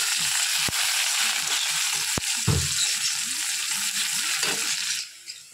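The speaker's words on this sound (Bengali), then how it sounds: "এর মধ্যে দিয়ে দেবো পেঁয়াজ" Onion hits hot oil already seasoned with a bay leaf and whole cumin, giving a loud continuous sizzle and crackle, with a few sharp clinks and stirring scrapes of a utensil against the pan.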